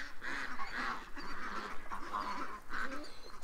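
A group of ducks quacks and honks in repeated nasal calls, close and fairly loud, one after another without pause, with no talking over them.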